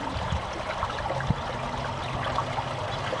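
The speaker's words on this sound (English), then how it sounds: "I just love the sound of water running." Water runs outdoors in nature with a steady, even babble and trickle, moderately loud and unbroken, with no voices.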